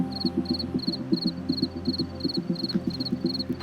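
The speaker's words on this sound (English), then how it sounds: "This chirping is the song of the fall field cricket" Close, regular fall field cricket chirps, each a quick trill repeating about every quarter second, over a low humming background.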